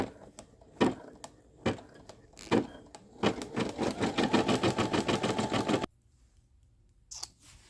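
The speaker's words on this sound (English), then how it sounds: "I'm going to be back when this whole thing stitch out" An embroidery machine stitches a large design onto a baby blanket, starting with a few spaced needle thumps, then settling into a steady rapid mechanical chatter before stopping abruptly, followed by quiet and a faint click.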